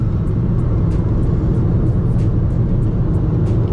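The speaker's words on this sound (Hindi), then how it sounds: "अब आप देख सकते हैं कोई अच्छा रिस्पॉन्स नहीं यहाँ पर एक्सेलेटर का, धीरे धीरे स्पीड बढ़ रही है।" Honda WR-V petrol car accelerating slowly and sluggishly, a steady loud engine and road rumble heard from inside the cabin, droning on with no talk.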